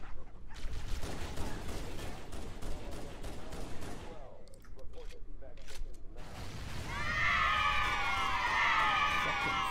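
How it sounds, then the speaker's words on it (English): Explosions and bursts of gunfire from Halo: Combat Evolved on Legendary difficulty, dense and continuous, with a brief lull midway before a bright, crackling blast or fire effect swells toward the end. "There was an explosion in front of you."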